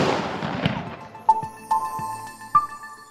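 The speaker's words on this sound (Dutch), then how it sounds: "In Zeeland wordt jaarlijks op een aantal plaatsen met karbiet geschoten." Carbide shooting in Zeeland, with carbide cannon blasts going off: three sharp, separate booms spaced about half a second to a second apart, heard at a distance over a rumbling outdoor background, with no voices.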